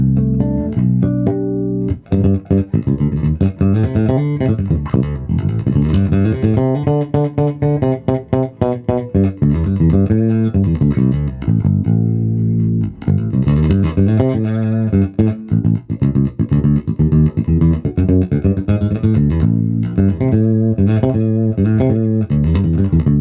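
A Fender American Ultra Precision Bass played solo on its J bass pickup, chiming harmonics ringing out over sustained low bass notes in a continuous, loud phrase.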